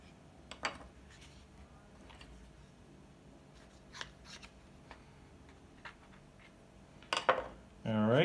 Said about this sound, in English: And I'm gonna cut the edges.